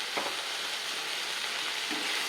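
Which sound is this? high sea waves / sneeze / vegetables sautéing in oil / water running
vegetables sautéing in oil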